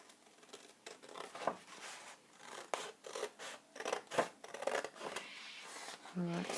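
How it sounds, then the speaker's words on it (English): Scissors cut through 12x12 paper in a series of close, crisp snips and rustling scrapes, irregular in rhythm, with a voice briefly heard at the end. "now we're just going to cut this bottom one out as well"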